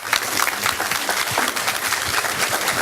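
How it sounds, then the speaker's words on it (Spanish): Audience applause at an evening event, a dense, steady patter of many hands clapping that fills the room with no break. "Yo quiero pedir que le brindemos un más fuerte aplauso"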